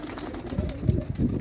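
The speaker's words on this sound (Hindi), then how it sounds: "आ रहे हैं ऊपर से नीचे कबूतर" Kasuri pigeons coo softly and low, with faint rustling as they come down from above to where grain has been scattered.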